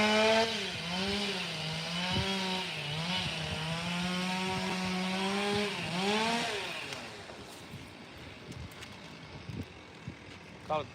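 Chainsaw cutting tree limbs near a Florida lake, a loud buzzing engine that revs and bogs down in long sustained pulls and then cuts off, followed by quieter outdoor sounds.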